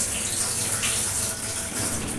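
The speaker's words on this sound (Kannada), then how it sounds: "ನೀರು ಎಡ್ಡೆ ಕೊದಿಯೊಂದುಂಡು" A pot of water boils during rice cooking, giving a steady, full bubbling hiss that holds at an even level throughout, close by and with no talk heard.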